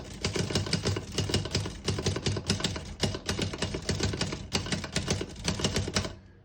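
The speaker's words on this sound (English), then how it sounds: "I'll type a sentence on the next line." Rapid clacking of a 1936 Remington Model 1 Noiseless portable typewriter, keystrokes striking in quick uneven bursts with brief pauses, close and crisp throughout.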